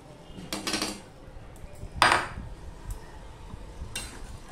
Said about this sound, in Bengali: এবারে যে ভেজে রাখা মাছগুলো আছে সেগুলো আমি দিয়ে দিচ্ছি